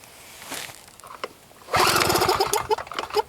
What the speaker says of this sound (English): now we're going to go ahead and this thing a few pulls on the starter